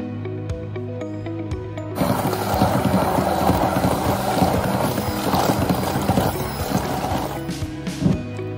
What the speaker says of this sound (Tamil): சீத்தாப்பழத்தோட பல்ப்பை நல்லா பீட் பண்ணி எடுத்துக்கலாம்.